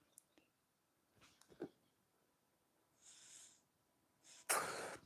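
A quiet room with scattered small noises, then a sudden sharp sneeze near the end, short and forceful.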